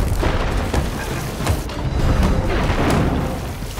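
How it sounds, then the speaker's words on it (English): Cannonballs from a Sea of Thieves naval fight slam into a ship's hull: several heavy booming impacts in quick succession, loud and close, buried in a dense, constant roar of game noise with no talking. "I keep getting hit in the same spot with a cannonball."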